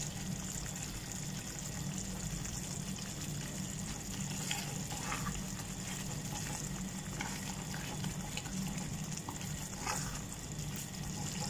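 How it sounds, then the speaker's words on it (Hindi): Paneer masala cooks in a kadai with green coriander added, a continuous soft frying hiss and bubbling at low level, with a few faint stirring clinks, no voices. "तो 1 से 2 मिनट हम इसके पकाते हैं"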